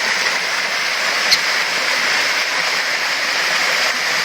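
Steady broadband rush of a waterfall in Panama, a continuous loud hiss and roar with no breaks, close and alone with no talk.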